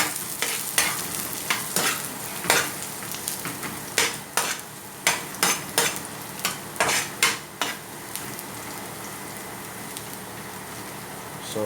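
Garlic and ginger sauté in hot oil for lugaw with a constant sizzle, while a utensil scrapes and stirs the pan in a quick run of sharp, rhythmic strokes before settling into frying alone.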